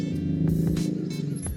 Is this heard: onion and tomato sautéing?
no